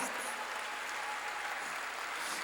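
A church congregation applauds in praise, a steady, fairly faint wash of massed clapping with no break.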